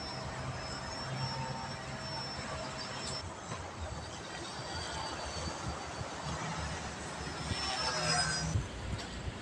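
A remote-control airplane engine whines and climbs in speed, its thin high buzz holding over a constant rushing wind-and-motor noise outdoors, growing a little louder toward the end.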